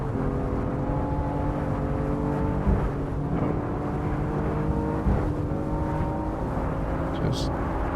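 BMW M4 engine held at full throttle on the Nürburgring, a loud steady drone with clear harmonic tones rising slightly in pitch, mixed with heavy road and wind noise and a brief bump around the middle.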